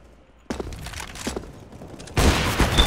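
Rapid gunfire in Counter-Strike: Global Offensive on the de_mirage map, with scattered shots at first and then a loud, dense burst of fire near the end, close and sharp with no talk.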